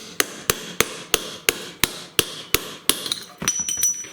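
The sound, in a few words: hammer pounding pin punch to remove seized snowblower wheel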